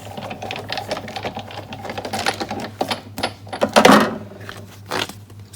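A 3D embossing folder and embossing plate are cranked through a manual embossing machine, giving a run of close, rattling mechanical clicks and rolling grinds for several seconds. The sound peaks in a louder crunch near the end over a steady low hum.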